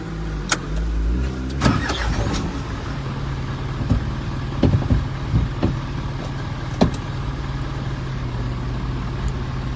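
Car pulling away during a driving test, a close engine idling and rising as it starts off, with intermittent clunks and knocks over a steady low rumble.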